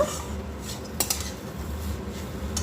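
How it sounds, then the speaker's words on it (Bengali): Vegetable chop filling scraped from a pan into a bowl, with close metallic clinks of a spoon against cookware and a couple of sharper knocks amid soft scraping, no talk. "এবার একটি পাত্রের মধ্যে আমি ঢেলে নেব"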